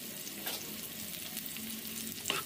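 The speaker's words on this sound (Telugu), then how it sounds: "ఆయిల్లో ఆనియన్ ఇలా మంచిగా వేయించుకోవాలి" A large chopped onion fries in hot oil for dondakaya curry, giving a soft, steady sizzle with a couple of light stirring scrapes, faint and close with no voices.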